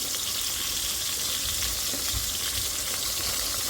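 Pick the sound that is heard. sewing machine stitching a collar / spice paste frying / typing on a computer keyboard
spice paste frying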